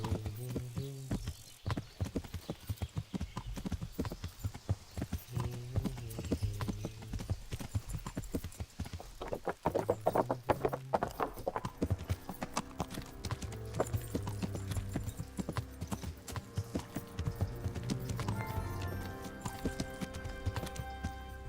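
Horse hooves clip-clopping steadily while riding in the video game Kingdom Come, a continuous loud rhythmic clatter with game music and sound effects around it and a brief whinny.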